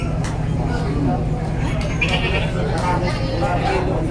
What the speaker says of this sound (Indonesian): Oh, ini ada kambing yang baru keluar kandang teman-teman ya.